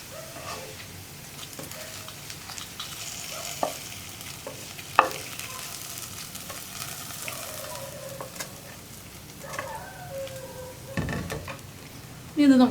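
Fried tempering being stirred into a yam and bean erissery curry, soft scraping and occasional clinks of a spoon over a low simmering hiss, close and quiet, with a sharper knock near the end.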